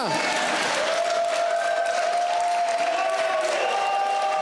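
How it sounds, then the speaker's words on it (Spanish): A church congregation applauds in a sustained, dense wash of clapping with some crowd noise, loud and continuous throughout, while a voice carries over it. "Y puede aplaudir con más fuerza."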